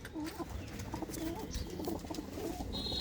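Pigeons in a Punjabi loft cooing softly, a few low throaty calls repeating over a faint hiss, with a brief high squeak near the end.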